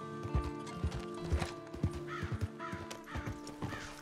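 Steady clip-clopping hooves with a horse whinnying over them, plus a few caw-like calls, in a mildly echoey game-like mix from Red Dead Redemption 2 Online.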